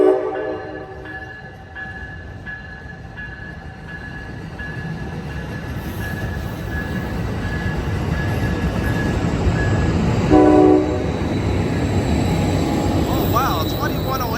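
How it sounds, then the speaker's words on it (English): An Amtrak Capitol Corridor passenger train pulls out of Oakland Jack London Square station. Horn blasts sound near the start and again partway through, over a steadily building rumble of wheels and engine. "Alright folks, train is off to Sacramento."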